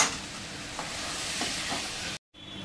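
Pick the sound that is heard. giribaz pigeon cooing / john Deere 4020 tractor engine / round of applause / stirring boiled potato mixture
stirring boiled potato mixture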